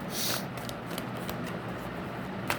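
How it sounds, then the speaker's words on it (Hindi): Tarot cards shuffled close up in a continuous soft riffling and sliding rustle, ending with a faint snap as a card is drawn, no talking. "ओके, सो इसके लिए दो कार्ड्स निकाल लेती हूँ मैं।"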